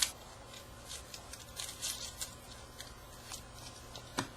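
Scissors snip a thin strip of silver foil for a handmade card, giving quiet, crisp clicks and light crinkling spread unevenly over a few seconds at close range.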